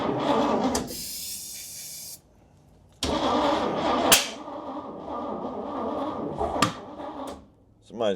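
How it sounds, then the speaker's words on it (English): A 1969 Chevy C10 pickup engine cranks and fires in bursts, with loud churning cranking broken by short pauses and sharp clicks, ending in a rough running rumble while someone talks nearby. "I'm gonna bump the key and make sure it ain't in gear."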